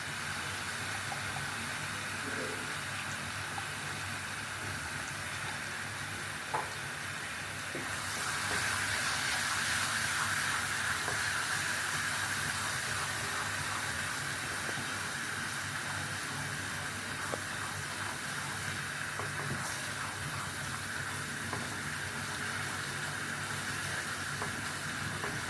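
Garlic, black pepper and coriander sizzle in hot fat for an Upper Egyptian okra tasha, a steady close hiss and crackle that grows louder partway through, with no talking.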